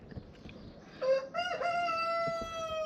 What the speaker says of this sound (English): Chickens are making fun of me.